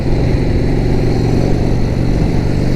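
Steady, loud engine rumble from a 1976 Harley-Davidson Ironhead Sportster being ridden, a dense low drone that holds even throughout with no voices.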